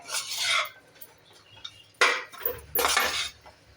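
A metal spoon scrapes and clinks in a pan while stirring cardamom powder into wheat modak filling, several brisk bursts of scraping separated by short pauses, close and clear with no talk.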